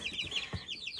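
Hens cluck and chirp in quick, repeated bursts on a family farm, the calls overlapping close by with a brief low thump in the middle.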